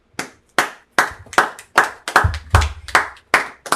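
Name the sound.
congregation clapping for a speaker at a service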